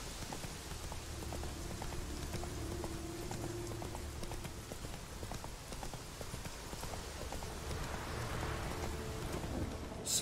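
Roach, a horse in The Witcher 3, clip-clops steadily through rain at a slow pace, hooves knocking in a regular rhythm over a constant patter of rainfall, with a faint low rumble beneath.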